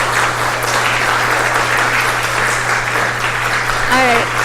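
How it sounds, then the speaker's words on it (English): An audience applauds the speakers at an evening astronomy talk on an all-sky hydrogen-alpha survey, giving steady, dense clapping that fills the room for several seconds, with a few voices rising near the end. "let's give another round of applause to our fantastic speakers tonight."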